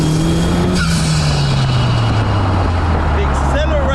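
A rare restored turbocharged car accelerating hard, loud close engine note with a steadily shifting pitch through the run and a whistle-like tone rising near the end.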